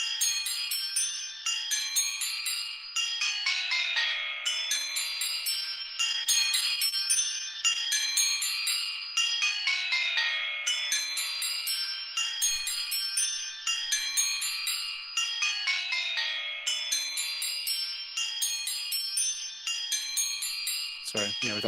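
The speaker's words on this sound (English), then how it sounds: "Something hypnotic about very creepy bells." Eerie bells ring steadily through a music piece, bright overlapping chimes repeating in a hypnotic, continuous pattern with rich ringing overtones and no pauses.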